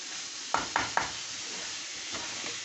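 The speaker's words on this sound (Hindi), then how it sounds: "अब हम इसमें अपना उबला चना इसमें डाल देंगे" Boiled chickpeas sizzle in hot spiced oil while a spoon scrapes and knocks the pan three times, then stirring continues more softly under a steady hiss.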